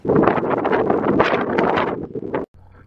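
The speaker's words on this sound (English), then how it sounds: "quickly changed to a very windy, noisy day" Heavy, continuous wind buffeting against a microphone, a loud broadband rumble that cuts out abruptly near the end, leaving a quieter hum.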